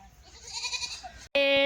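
A goat bleats in a wavering cry, then a louder, sharper bleat cuts in abruptly at the end.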